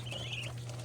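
Duckling chicks kept as backyard pets chirp in a thin, high, wavering call lasting under a second, close and fairly soft over a steady low hum.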